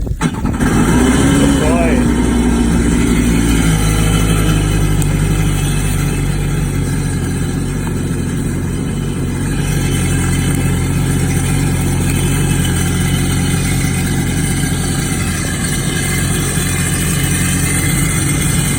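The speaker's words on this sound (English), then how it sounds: "I'm going to start up the engine" A Kawasaki Ultra 310R jet ski engine runs loud and steady at idle during flushing, with a rough mechanical drone and a brief rev near the start.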